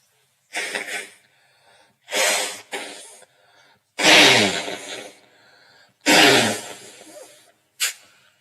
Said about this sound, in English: Sorry to blow my nose in your ear there